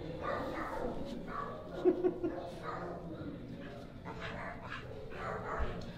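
Rescue shelter dog playing, giving soft whimpers and a couple of short yips amid room noise while people talk nearby.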